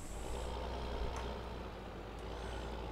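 A tractor in Landwirtschafts-Simulator 15 hitches a front weight, with a quiet, steady engine rumble and a couple of faint high beeps over the low drone.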